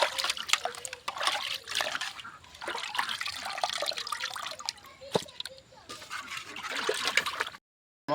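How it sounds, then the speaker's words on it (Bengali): Large catfish being washed in water at an outdoor picnic, with close, repeated splashing, sloshing and dribbling that ends in a brief silence. "মাছ ধোয়া হয়ে গেছে"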